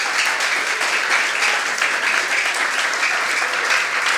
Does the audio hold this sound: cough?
no